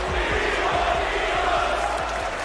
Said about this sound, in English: As the bout kept going, "We Want Divas" chants then rang out throughout the arena.